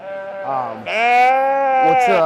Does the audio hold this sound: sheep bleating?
yes